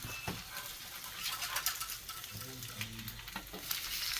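Bacon and eggs sizzle and crackle steadily on a hot griddle, a continuous frying hiss with small pops throughout, loud and close.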